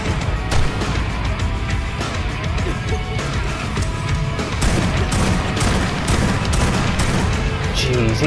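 Gunfire in the video game ARK Survival Evolved, with rapid bursts of shots and booms crackling over a busy, noisy mix, loud and close, while a voice talks in places.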